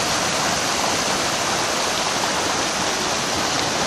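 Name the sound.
sea wave rushing into the river mouth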